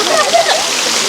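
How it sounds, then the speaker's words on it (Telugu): A small waterfall at Srisailam, the Paladhara stream, splashes and spatters close by in a constant bright rush of falling water. "చిన్ని వాటర్ ఫాల్స్ పైన వస్తున్నాయి."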